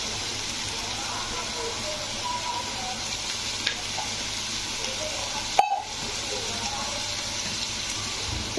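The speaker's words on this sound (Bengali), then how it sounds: "তো একটু সামান্য জলটা দিয়ে দিলাম বাটিটা ধুয়ে।" Rinse water from a bowl goes into a katla kalia fish curry with a masala and tomato sauce gravy, giving a steady close hiss and sizzle with a few small clicks and no talking.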